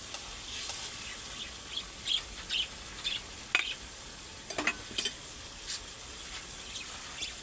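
Fried tilapia goes into a pan for a dish with garbanzos, and faint scraping and stirring clatter sounds in short bursts over a low sizzle, with a bird chirping faintly in the background.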